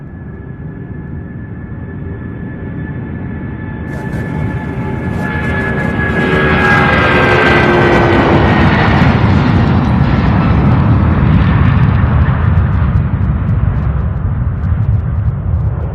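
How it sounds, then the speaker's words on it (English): An aircraft takes off at Louisville's UPS Worldport airport. Tonal engine whine spools up, then builds into a loud, deep, rumbling roar that holds steady and stays heavy, with no talking. "Spooling up, and it's off."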